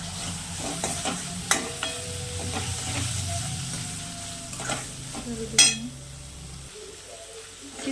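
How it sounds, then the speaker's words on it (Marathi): Kolhapuri vajadi (tripe) with beans frying in oil, stirred with a steady sizzle and scattered scraping clicks of the spoon against the pan, close and continuous, quieter toward the end. "वजडी अशी फ्राय होईपर्यंत परतवणार आहे"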